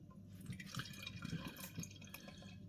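Pale ale with an ice-cream flavour, 5.7% strength, is poured into a glass in a bar, giving a steady close trickle and splash of liquid with small drips, with no talk.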